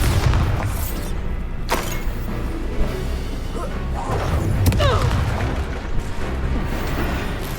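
Deep booming blasts from the Bombarda spell in the video game Hogwarts Legacy, a couple of sharp heavy impacts over a dense rumbling game soundtrack, with a voice briefly casting.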